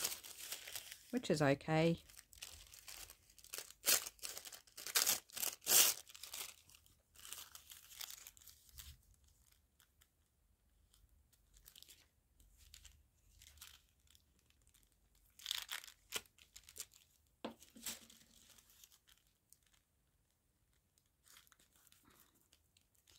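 Fine coloured tissue paper is torn and crinkled for a window-envelope craft, with a burst of close crinkling and ripping near the start, then scattered softer rustles under occasional quiet talk.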